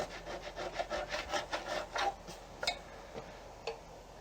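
Bark scraped off a wooden self bow, a steady run of close rhythmic rasping strokes that slows into a few separate scrapes, with no talk.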